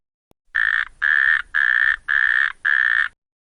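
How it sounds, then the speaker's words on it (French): A natterjack toad, Epidalea calamita, gives five loud, rasping trilled croaks, each lasting about a third of a second and separated by brief, even gaps, clear and close with a silent background. "Le chant."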